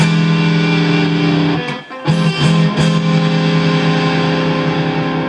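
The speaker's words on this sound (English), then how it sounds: "Here's my 4 jazz chords. Full distortion." Jazz chords on electric guitar through a Brimstone Audio Crossover Distortion XD-1 pedal at full distortion ring out loud and sustained, with a brief choppy break of chord changes before the wall of sound resumes.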